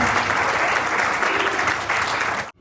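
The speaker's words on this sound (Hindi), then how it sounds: "एक बार आप अपने घर की नारी शक्ति के सम्मान में तालियां बजाएं" An audience at a poetry recital applauds in honour of women, a thick, sustained crowd clapping at steady loudness that cuts off abruptly at the end.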